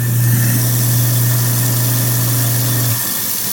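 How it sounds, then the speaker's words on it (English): Newly installed kitchen garbage disposal running with a steady low motor hum and faint rattle, close and continuous for about three seconds before the pitch drops slightly as it winds down. "go ahead and hit the disposal."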